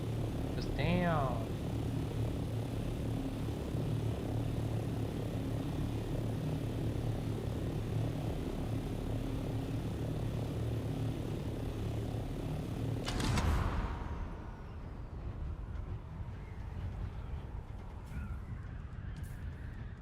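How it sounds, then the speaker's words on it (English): A vehicle engine in the Dune: Awakening video game drones steadily and loudly at a constant pitch, then cuts out abruptly near the end, leaving a fainter hum. "Can I make the vehicle sounds quieter?"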